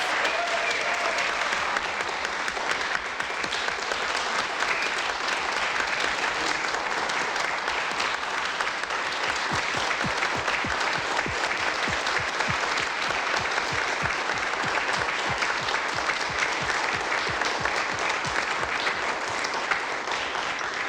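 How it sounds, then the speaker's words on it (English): An audience at a press conference for a Nobel Prize winner in physics claps steadily and continuously, a dense, even patter of applause sustained from start to finish. "we owe him a round of applause and congratulate him for being the Nobel Prize winner in physics"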